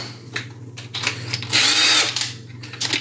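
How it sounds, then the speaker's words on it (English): A power drill bores a larger 3/8 hole in a quarter-scale Rhino prototype, with short intermittent whirs around a louder sustained run in the middle and a steady low hum underneath. "I'm gonna go in here and drill"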